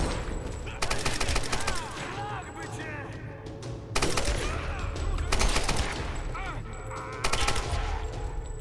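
Rapid automatic gunfire in Tomb Raider crackles in several loud, close bursts separated by short pauses, with talking in between.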